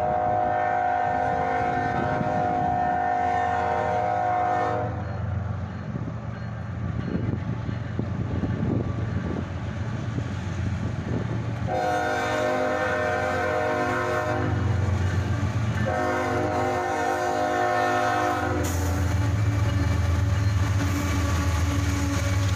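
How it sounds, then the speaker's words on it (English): A CSX local freight train led by a pair of Jeep locomotives passes close by, its horn blaring in several long, loud blasts over a steady rumble of engines and rolling wagons. "this CSX local job would pass by"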